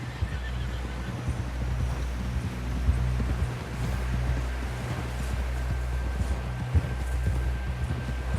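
Horse hooves galloping in the video game Red Dead Redemption 2, a steady rumbling clip-clop under occasional neighs and whinnies, loud and continuous with no talk.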